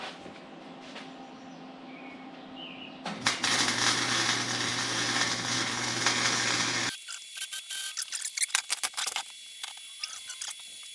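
A step is tack welded onto a 1979 GMC Vandura van: a low hum, then a loud, harsh crackling buzz of several seconds, followed by short stuttering bursts of crackle with clicks and pauses between them.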